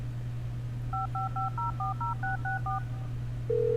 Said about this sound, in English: now you pick up the phone. I'm calling the library.